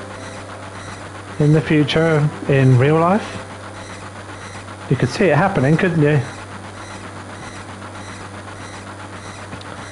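A train runs in Final Fantasy VII (1997) with a steady, low mechanical hum that continues throughout while voices talk in two short bursts over it.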